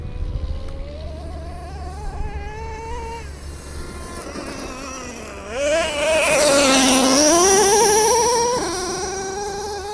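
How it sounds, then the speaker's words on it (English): A Traxxas Revo 3.3 nitro RC monster truck engine screams at full throttle, a high buzzing whine that rises and falls in pitch and swells loudest midway through before easing back, heard up close with no talk. "He's full trigger in this stone."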